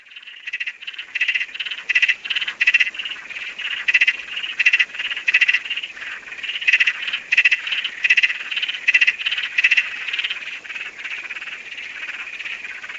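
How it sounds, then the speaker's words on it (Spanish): A small frog calls over and over in quick, rattling trills, close and clear, in short repeated bursts with brief gaps between them, with no voices. "no solamente croa así, también croa de otra forma, mira"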